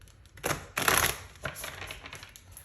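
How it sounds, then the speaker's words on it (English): Tarot cards are shuffled by hand in quick riffling bursts of papery clicks and flutters, a few separate rustles spread over a couple of seconds, close and fairly loud, with no talking. "I'm shuffling a little bit more for you guys here."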